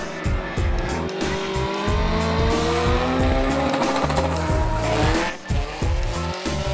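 A drift car at a DCU drift event in Vinnytsia launches and accelerates hard, engine roaring with repeated rev surges while tires squeal continuously, loud and sustained throughout.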